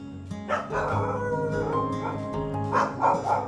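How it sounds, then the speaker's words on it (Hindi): A dog barks repeatedly in an Indian residential lane, the yips and barks moderately close and loud over steady street background noise. "और भौंक रहा है"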